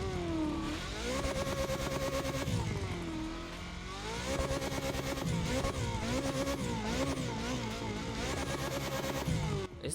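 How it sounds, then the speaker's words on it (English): A Ferrari SF90's high-revving engine screams through repeated rising and falling pitch sweeps, loud and close, like gear changes while racing. "let's listen to how it sounds on its own"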